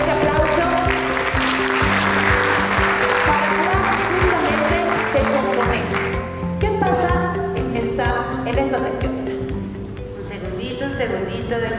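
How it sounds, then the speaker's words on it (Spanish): Audience applause greeting a guest walking onto a television stage, steady and sustained throughout beneath loud music and intermittent voices. "el público te recibe con este aplauso"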